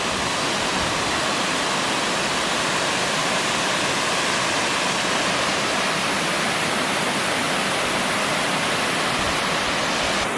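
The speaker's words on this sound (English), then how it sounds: "We found the mysterious waterfall." Browns Creek Falls in the Colorado outdoors roars as a continuous broadband rush of falling water, close and loud, steady without any break or voices.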